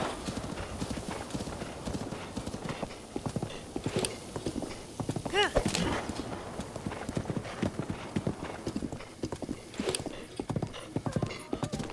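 Horse hooves clatter in a fast, steady galloping rhythm while riding through Zelda: Breath of the Wild, loud and continuous for the whole stretch, with a brief whinny midway and game music and ambience underneath.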